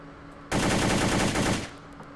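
A single full-auto burst of rapid gunfire from a weapon in the World of Guns video game lasts about a second, loud and alone, then stops abruptly.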